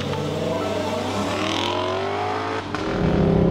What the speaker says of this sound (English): variable exhaust gets maximum snarl